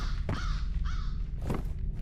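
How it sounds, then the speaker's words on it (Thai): Two harsh crow caws from the video game F.E.A.R. ring out, one after another, with a steady low hum underneath. "เสียงอีกา"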